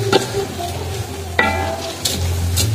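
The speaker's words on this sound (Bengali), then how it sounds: "এরপর নেড়ে চেড়ে নিব।" Rice and farm chicken for khichuri sizzle in a pot as a spoon stirs and scrapes, with a few clinks over a steady frying hiss, close and moderately loud.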